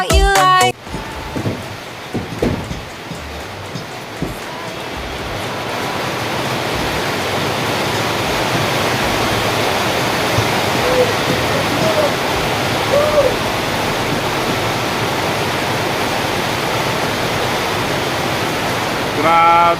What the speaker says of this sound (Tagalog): Bumuhos na naman ang malakas ang ulan.